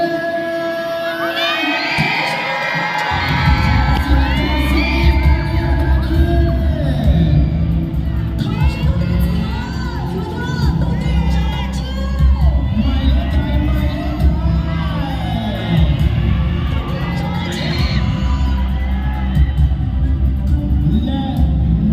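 A crowd at a contest for young men cheers, whoops and shouts loudly and continuously, with children's high yells and a babble of voices layered over a thumping background rhythm.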